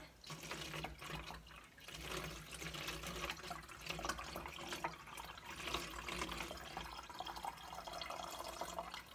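Homemade ginger water is poured into a gallon jug, a continuous close liquid stream with gurgling and dripping that runs steadily for several seconds with no talk over it.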